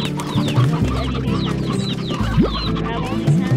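In the Slime Rancher video game, several hens cluck in busy, overlapping bursts over a steady droning background, with faint voices underneath.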